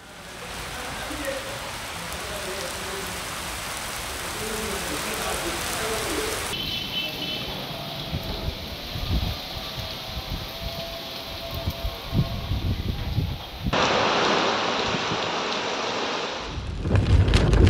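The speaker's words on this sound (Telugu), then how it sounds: "ఉరుములు, మెరుపులు, ఈదురుగాలులతో కూడిన వర్షం కురవడంతో" Steady rain pours throughout in Warangal, shifting in character partway through, with low rumbles and bursts of heavier noise suggesting thunder in a stormy downpour with strong winds.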